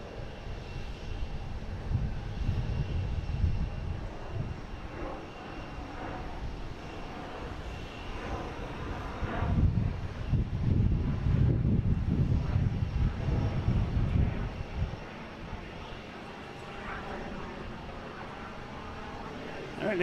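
A Dassault Falcon jet passes at Boston Logan airport, its engine roar swelling from a distant rumble to a loud broadband rush in the middle before fading away, with faint voices in the background.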